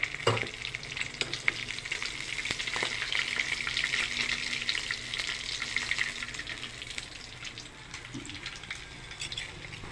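Milkfish (bangus) tail pieces fry in a pan with a continuous, close crackling sizzle that holds steady throughout, with a couple of brief clinks near the start.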